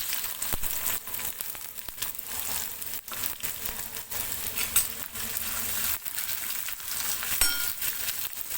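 Onions frying in a pan with cumin and curry leaves, a continuous crackling sizzle at moderate level broken by occasional short stirring scrapes, with no talk.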